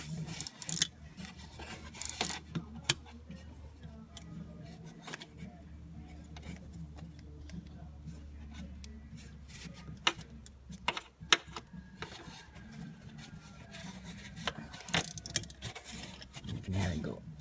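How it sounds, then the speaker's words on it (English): A Torx bit on a wrench tightens the head bolts of a 6.0 Powerstroke diesel engine during a head gasket install, giving scattered metallic ratchet clicks and clinks close by, with some talk. "and I'll go ahead and wrench these down."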